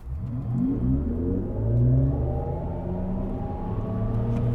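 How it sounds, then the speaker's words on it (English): Mercedes EQS electric car, 2022 model, producing its artificial sport-mode driving sound: a layered synthetic hum that rises steadily in pitch as the car accelerates, loud and close, without speech. "I think this is the best sounding electric car sound yet."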